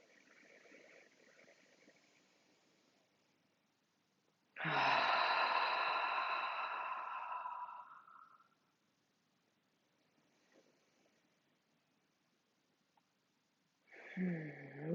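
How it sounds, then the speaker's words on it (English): A person in a guided contemplation session takes deep, full breaths in and out, with one long, loud breath near the middle and another starting at the end, separated by near silence. "couple of big, full breaths all the way in, all the way back out."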